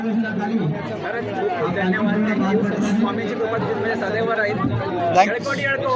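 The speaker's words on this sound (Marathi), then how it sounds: "तुम्ही पाहू शकता मित्रांनो इथे खूप भक्तांची गर्दी झालेली आहे" A dense crowd of devotees at the Champashashti festival at a Swami Samarth math, a steady babble of many overlapping voices with occasional clinks and louder calls, close and continuous.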